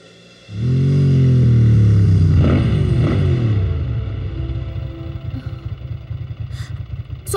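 An animated motorcycle rides up in a cartoon scene, its engine roar rising suddenly, holding loud and steady for a few seconds, then easing into a lower idle rumble with faint clicks at the end.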